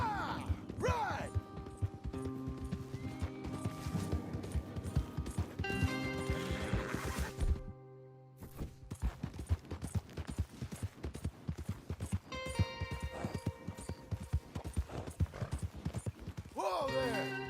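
Horses in the video game Red Dead Redemption 2 whinny loudly at the start and end, with steady hooves clip-clopping throughout and a brief drop-out midway; voices talk over parts of it.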